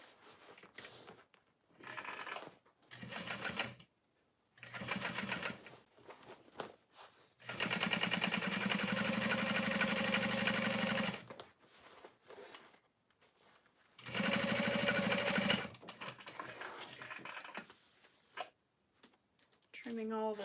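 A sewing machine top stitching a satchel runs in several bursts of rapid, steady whirring, quiet and close, with pauses between runs and soft talk in the gaps.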